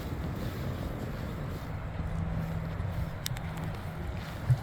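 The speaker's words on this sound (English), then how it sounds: "Kind of a windy day, but pleasant." Wind blows steadily across an open memorial park cemetery in Santa Clarita on a windy day, a low rumbling buffet against the microphone with faint distant traffic-like hum and no talking.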